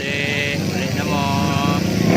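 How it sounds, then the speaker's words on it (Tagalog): Motorcycle engines in a street race, loud and continuous at close range, revving under a crowd of voices talking and shouting throughout. "ilang lumba dagan sa motor"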